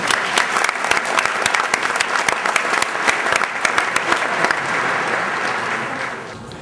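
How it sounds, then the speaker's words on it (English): Applause from a large audience at a VMworld Europe 2009 keynote: brisk, close clapping with distinct sharp claps in a dense wash, fading slightly toward the end. "I think you deserve a round of applause"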